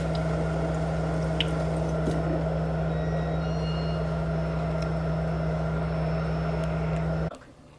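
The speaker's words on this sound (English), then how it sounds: "Then I'm going to take it to the sink and just rinse the back off, get all the extra stain off." Running water from a sink tap rinses excess stain off the back of a slide, a steady, loud splashing rush with a low hum beneath it that stops abruptly near the end.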